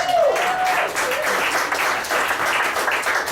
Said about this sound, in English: How about a hand for Franklin?